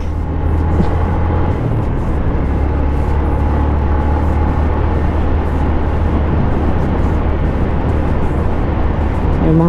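A motorcycle fitted with a quiet stock exhaust cruises along, its engine a low, steady, subdued drone under road and wind noise, with no voices.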